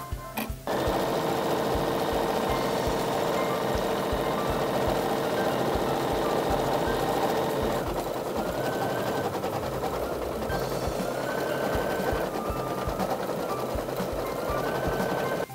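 An embroidery sewing machine stitches continuously, a steady fast mechanical whirring with rapid needle clatter and rhythmic knocking, running alone without pauses and close to the listener.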